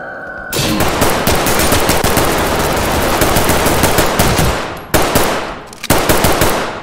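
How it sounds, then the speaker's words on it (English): Close, dense gunfire in the tactical shooter Ready or Not, a loud sustained burst of rapid shots filling most of the stretch, then two sharp separate blasts near the end, with no talk. "Shotgun."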